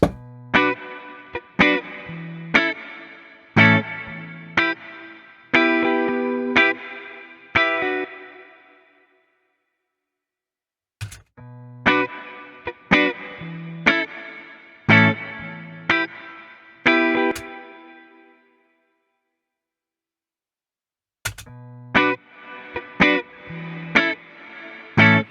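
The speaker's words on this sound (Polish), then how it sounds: "No, on wydłuża w ogóle całą... Takie robi... rozciąga ten pogłos." Reverb effect unit stretching a long, drawn-out tail over repeated phrases of plucked notes, each burst ringing and fading into silence before the next, played alone with no talk.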